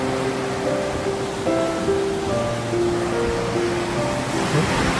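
A strong, swelling river current rushes at a crossing point, a loud, dense, unbroken roar of churning water close by, with faint tonal hums threaded underneath and no talking.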